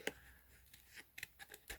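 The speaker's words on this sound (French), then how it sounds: "Je prends mes ciseaux, je découpe sur la double épaisseur" Several crisp scissor snips through a double thickness of paper for a pop-up card, close and quiet, coming in short irregular bursts with brief pauses between cuts.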